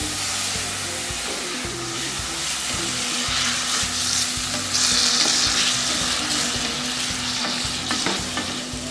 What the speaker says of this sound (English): I always add my salt directly after I add the tomatoes to the pot. Stirring it constantly.